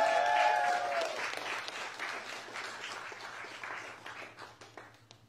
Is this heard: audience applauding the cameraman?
yes